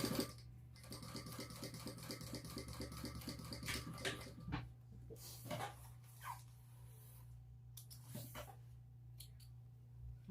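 A sewing machine with a walking foot stitches light vinyl using heavy-duty thread, giving a quiet, steady mechanical whirring with rapid regular needle clicks that pause and restart in short runs.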